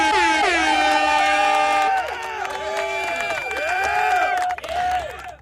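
A loud, blaring air horn sound effect with sustained, wavering tones sounds over faint crowd cheering during a livestream, ending in a brief stuttering burst.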